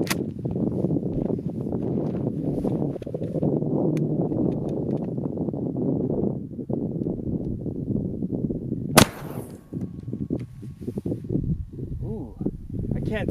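A 12 gauge shotgun firing a Foster slug at long range outdoors, one sharp, loud blast that cuts through ongoing talk and leaves a short rumbling tail.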